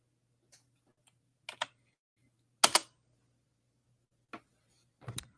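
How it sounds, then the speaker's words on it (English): Scattered keystrokes on a computer keyboard, a few isolated clicks and short clustered taps with pauses between them, faint and close over a quiet background hum. "Just typing."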